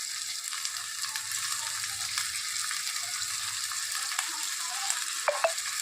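Prawns sizzle steadily in a curry pan over a base of ginger, tomato and onion, giving a close, even hiss with a few faint clicks of stirring and no voices.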